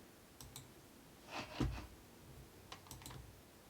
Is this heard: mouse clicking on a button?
yes